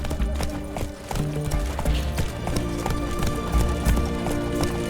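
Roach, a horse in The Witcher 3, gallops with steady rhythmic hoofbeats at close range, one brief whinny rising over the running clatter of hooves.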